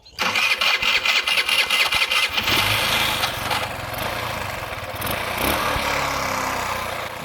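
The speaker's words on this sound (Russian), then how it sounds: "двигатель начал запускаться, и появился намек на холостой ход" Carbureted engine cranking in rapid pulses, then catching and settling into a rough, steady idle, loud and close throughout.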